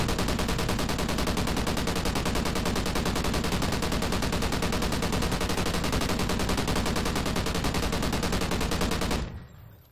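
A Bizon submachine gun in Call of Duty Ghosts fires a loud, unbroken stream of rapid shots for about nine seconds and then stops abruptly.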